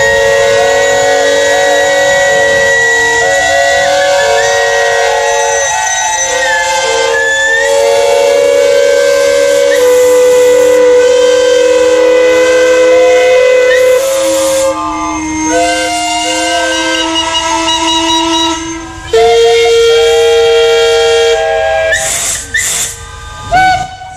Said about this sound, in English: engine crews, are we ready to blow our whistles?